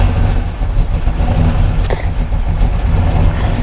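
A turbocharged Chevrolet Silverado engine being warmed up at a garage, a steady loud mid-pitched engine drone with slight rises in revs held throughout, no talking.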